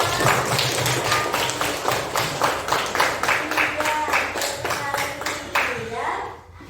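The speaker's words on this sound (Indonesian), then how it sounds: "Tepuk tangan buat Tansa." A classroom of students claps for a classmate after a correct answer, a dense run of hand claps from a group nearby that fades out toward the end.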